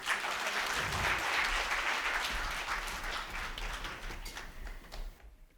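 Audience applause at an event honoring a senior High Court advocate, a dense burst of many hands clapping that swells early and slowly tapers off.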